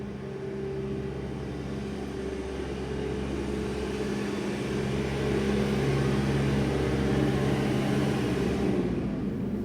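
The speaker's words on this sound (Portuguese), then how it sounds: "Vai ter um barulhão de caminhão, eu acho." A truck passes by outside, a low engine rumble with steady droning tones and a broad roar that swells slightly louder toward the end, with no voices.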